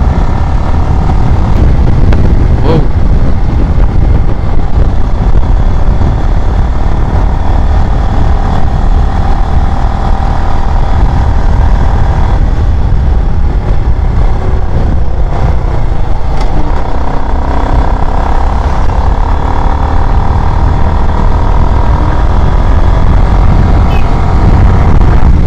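A Yamaha R15 V3 motorcycle is ridden on a hot day, its engine drone and rushing wind loud and unbroken from start to finish.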